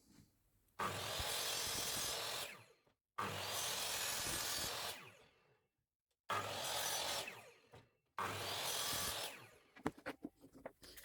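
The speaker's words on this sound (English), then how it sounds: "Then I can start cutting the sapele down, mitering the corners, and adding that as trim on the outside of the coaster." A power saw cutting sapele wood trim for coasters, with four loud sustained cuts separated by short silences and some light tapping and handling at the end.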